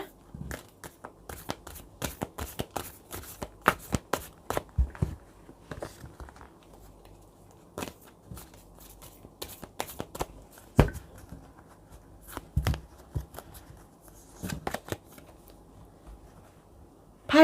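Tarot cards shuffled for a reading, with quiet irregular bursts of riffling and card snaps spread through a long stretch and short pauses between them, no talking.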